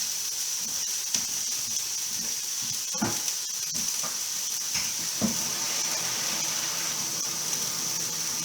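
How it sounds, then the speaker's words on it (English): Tap water pours into a pan of pasta noodles, a steady rushing hiss with a few clinks and knocks of the pan, fairly close and with no talking. "I'm just going to go fill it with water"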